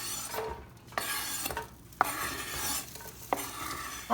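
Diced chopped brisket warms in a pan as it is stirred, giving a soft sizzle with repeated scraping strokes about every half second, close and fairly quiet.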